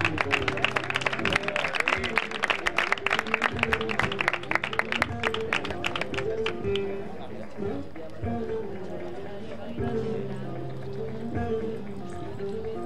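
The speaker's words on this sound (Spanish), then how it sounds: "Un fuerte aplauso." At a doma vaquera horse dressage award ceremony, an audience claps in a lively burst for about six seconds before the applause thins out. A voice and tonal background carry on underneath.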